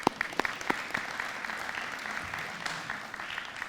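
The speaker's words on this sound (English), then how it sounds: "Please give yourselves a round of applause." A university awards ceremony audience applauds itself. The clapping is steady and fairly dense, with a few sharp claps near the start, and no voices over it.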